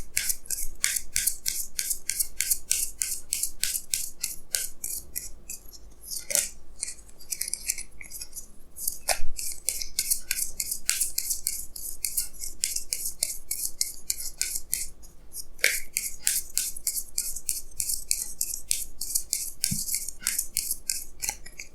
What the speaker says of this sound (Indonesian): Di sini saya akan tarik lagi 2 kartu tambahan